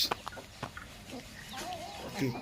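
Three-month-old farm laying hens cluck and cheep softly in short scattered calls, with a voice talking over them and light background noise.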